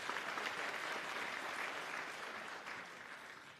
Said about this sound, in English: we would like to give the African youth who will be participating in this program a very big round of applause